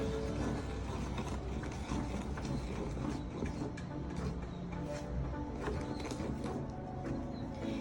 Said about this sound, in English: Then I'll mix it with the whisk.